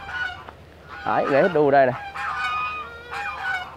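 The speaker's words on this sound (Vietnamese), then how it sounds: "Đây, ngan nè, ngỗng, ngỗng." Geese and Muscovy ducks honk loudly in a burst of harsh, overlapping calls at a cafe garden, with further fainter honks following, while someone talks over them in Vietnamese.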